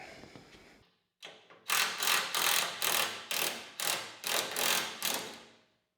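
A ratchet tensioning rig is cranked while a bolt is removed from the loader of an Allis Chalmers D17 tractor. About eight loud, close, evenly paced bursts of clicking follow one short lead-in stroke.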